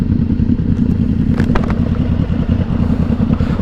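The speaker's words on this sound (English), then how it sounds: "that exhaust sounds good" Motorcycle exhaust rumbling loud and close while riding along the Pacific Coast Highway, a continuous throaty drone with some clattering crackle, no voices.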